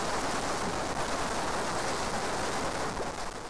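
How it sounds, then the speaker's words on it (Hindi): Heavy rain falling in Uttarakhand, a dense, constant roaring hiss of downpour with no breaks or voices, loud and close throughout. "उत्तराखंड में तेज बारिश शुरू हो गई"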